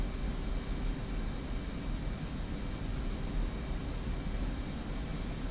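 A steady aircraft engine drone with a broad, hissing rush holds at an even, fairly faint level throughout, heard during a flight in a flight simulator game.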